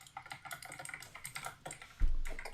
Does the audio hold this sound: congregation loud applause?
no